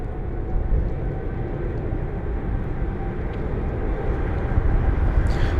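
A jet aircraft on approach to land at London Heathrow, heard from outside as a steady, loud, broadband rumble that swells slightly toward the end, with no talking.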